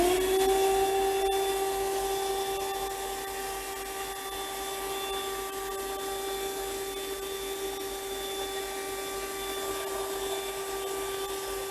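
A 4-in-1 car vacuum cleaner, fitted with a brush attachment, runs continuously with a steady motor whine and a strong tonal hum. It stays loud and even throughout, with no talk.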